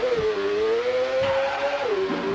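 A motorcycle engine whines steadily in Atlus's GP-1 racing game on the Super Famicom, its synthesized pitch rising and dipping as the bike speeds along, loud and continuous with no talk.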